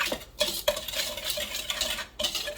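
Flour, cornstarch and sugar are whisked together in a bowl, giving quick, close, rhythmic scraping and clicking strokes with brief pauses between bursts.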